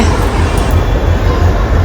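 A railway station platform gives off a loud, heavy rumble of rail noise throughout a brief stretch of ambience.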